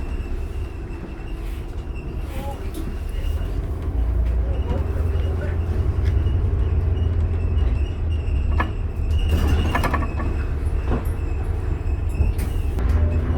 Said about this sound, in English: We've gotten stopped by a few trains today.